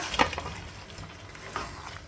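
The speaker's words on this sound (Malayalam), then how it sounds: "ഇനി നമുക്ക് ചിക്കൻ ഫ്രൈ ചെയ്തത് ഇട്ട് കൊടുക്കുക" Fried chicken pieces dropped and stirred into a biryani masala in a pan, a brief scraping clatter followed by a soft sizzle and another faint stir, close and quiet, no talk.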